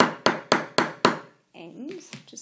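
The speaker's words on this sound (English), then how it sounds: "I've just sort of gently hammered that." Four evenly spaced taps of a chasing hammer on a metal necklace bar, sharp ringing strikes with short decays, then a brief pause and soft handling noise with a faint voice.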